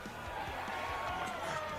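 A crowd cheers and roars steadily at a Ballarat football league match between Melton and Sebastopol. The crowd noise is continuous and fairly loud, and there is a broad wash of voices with no single speaker standing out.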